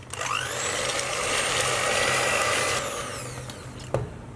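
Electric hand mixer beating butter, sugar and vanilla for Persian raisin cookie dough, a steady loud whirring motor with rising and falling pitch, ending with a light knock.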